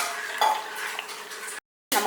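Spoon clinking and scraping in a pot as sprouted wheat malt is stirred into milk, a few short stirring strokes with a brief gap of silence near the end.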